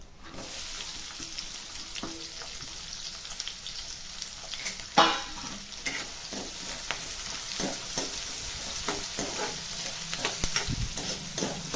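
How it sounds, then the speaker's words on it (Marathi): Onion sautéing in oil with cumin, a steady close sizzle broken by spatula scrapes and stirring knocks, one sharper clatter midway, with no voices. "कांदा परतून घेऊ चांगला तेलामध्ये"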